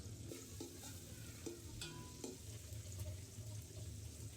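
Onion and green chili fry in ghee and soybean oil for fried rice, a faint steady sizzle broken by soft stirring clicks and scrapes of a utensil in the pan, quiet and without talk.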